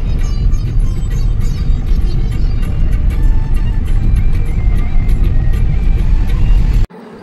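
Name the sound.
Ertiga car driving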